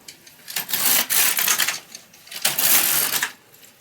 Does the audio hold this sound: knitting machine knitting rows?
yes